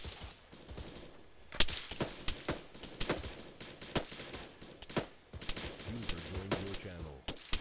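Gunfire in the military video game Arma: irregular bursts of sharp, close shots with some rapid volleys and a loud crack near the middle, with faint voices in the background.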